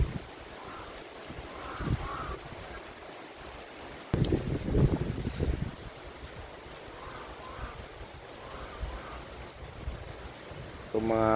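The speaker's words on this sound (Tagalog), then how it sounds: "ulan pa, malakas pa ang hangin." Strong wind buffets the microphone outdoors during steady rain near a goat pen, a rough continuous roar with gusty surges, a sharp knock partway through and a faint voice in the background.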